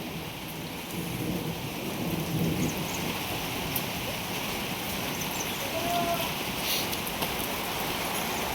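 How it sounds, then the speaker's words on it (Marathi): A heavy monsoon thunderstorm pours down, with dense, steady rain hissing on surfaces and low rumbles of thunder rolling beneath it, continuous and enveloping with no voices. "कसला गरज होतोय बाबू देवा."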